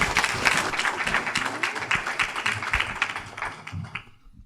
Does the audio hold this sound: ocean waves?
no